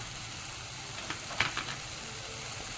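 Spices for pav bhaji sautéing in a pan give a quiet, steady sizzle, broken by a few soft scrapes and knocks of stirring near the middle.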